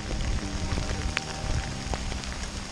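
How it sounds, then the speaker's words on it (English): Steady rain patters on the surface beside a South Florida pond during a snakehead fishing trip, a dense even hiss with scattered close drop ticks and no talking. "we're fishing in the rain right now"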